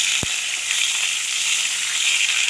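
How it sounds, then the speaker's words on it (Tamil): Steady, bright sizzle of onion and ingredients frying in oil in a pan for a Tamil-style ridge gourd stir-fry, continuous and close, with one brief low thump near the start and no talk. "இது ரெண்டும் போட்டுட்டு நல்லா செவக்க ஃப்ரை பண்ணிக்கலாம்"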